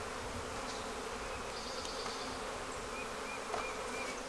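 Honeybees buzzing steadily at a Flowhive hive that has lost its queen, a dense, continuous drone close by with no pauses or voices.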